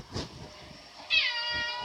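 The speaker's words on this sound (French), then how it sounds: "c'est les petits chats qui miaulent." Small kittens meow in a short, clear, close cry about a second in, after a moment of soft background noise, with no talking.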